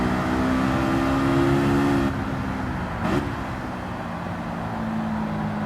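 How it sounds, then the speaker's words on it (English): In Gran Turismo 7, a Honda S2000 pulls hard uphill on Grand Valley Highway. The loud, steady engine drone holds high revs, then briefly drops away and settles back into a lower hum. "charging up the hill as fast as the car allows us"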